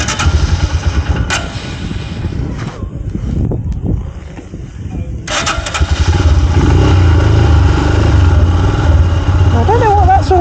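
A Royal Enfield Himalayan 411 motorcycle with ignition trouble cranks and stutters, cutting out before its single-cylinder engine catches and settles into a steady, close idle. Wind buffets the microphone, and voices talk over it.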